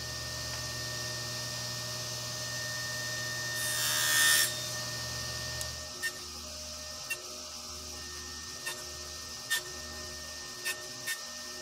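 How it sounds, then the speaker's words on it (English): A mini table saw sled trims the ends of small wooden blocks for an end grain backsplash. A steady saw hum is broken by one brief loud rasping cut, followed by a string of short separate clicks and knocks. "And once again, I'm using my mini table saw sled to do that."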